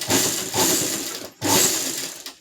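A sewing machine lock-stitches a blouse in two quick, close bursts of whirring motor noise, with a brief stop between them and a short tail at the end.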